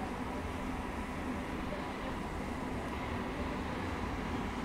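Steady rumble of the 12713 Satavahana SF Express pulling out of Cherlapalli after a long halt, a dense continuous low roar of wheels and carriage noise with no distinct events, heard from on board.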